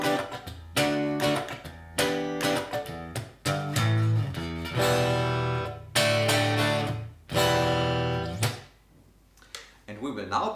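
Clean electric guitar through a Vox AC30 Class A 30-watt amp simulation with no effects, playing strummed chords and short rhythmic stabs with brief gaps, loud and close, no voices.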